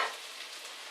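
Onions frying in a pot give a continuous close sizzling hiss, steady and unbroken for about a second with no voices.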